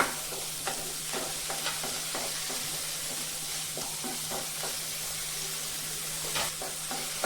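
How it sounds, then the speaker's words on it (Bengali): Tomatoes frying in a pan as a spatula stirs them, repeated scraping clicks over a constant soft sizzle and hiss, with no voices. "টমেটোটাও আমি ভেজে নেব।"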